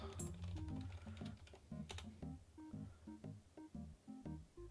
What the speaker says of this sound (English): I hope I'm not over annoying you with my keyboard over here